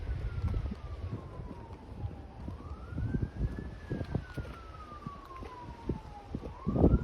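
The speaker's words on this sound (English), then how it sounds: "Oh, I can hear emergency vehicles responding." A distant emergency siren, a fire truck responding, wails in slow rising and falling sweeps during an outdoor nature hike, faint beneath gusty wind noise on the microphone.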